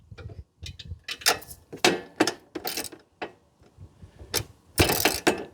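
Ratchet clicking in short bursts while turning a nut on a Husqvarna Z242F riding mower, several quick ratcheting runs separated by pauses, close and fairly loud.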